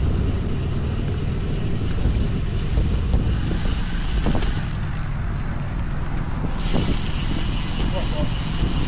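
Wind roars steadily across the microphone while cycling along the Tolo Harbour cycle track, a constant broadband rush that lasts the whole stretch, with faint voices beneath it.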